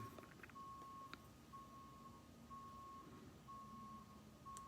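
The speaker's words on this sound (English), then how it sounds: "What is that annoying beeping? Someone in reverse, but I can't see whom." A vehicle backs up somewhere out of sight, its reversing alarm giving a steady run of regularly spaced single beeps, moderately distant, over a low background rumble.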